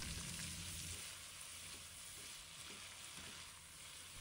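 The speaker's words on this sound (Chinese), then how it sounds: "赶紧倒入沥干水分的土豆丝，开大火爆炒50秒，让土豆丝快速受热。" Drained shredded potatoes stir-fried in a wok over high heat give a dense, steady sizzle, with faint scraping of the spatula as they are tossed.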